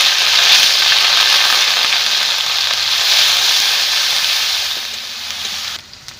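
Onion paste frying in hot oil in a wok with dried red chillies and bay leaves, a loud, steady sizzle that holds for about six seconds and then drops off sharply at the end.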